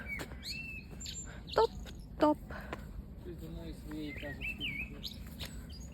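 Small birds chirp and trill in short bursts outdoors, with crunching footsteps and faint background hiss; a couple of louder close calls stand out.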